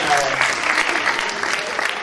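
Audience applause fills the room at a comedy show, a dense, steady clapping from a crowd with voices mixed in.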